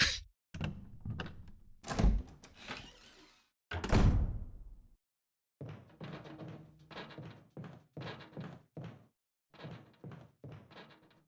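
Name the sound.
knocking on a window in Resident Evil HD Remaster video game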